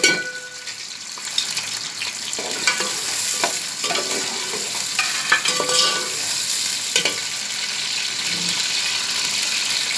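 Onions fry in a little oil for a shalgam chicken curry, giving a close, steady sizzle with frequent clinks and scrapes of a stirring spoon against the pan.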